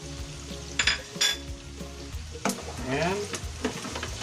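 Pork tofu with spring onion being stir-fried in a hot pan, giving a steady close sizzle with scraping spatula strokes and light clinks of utensil on metal; a voice briefly speaks.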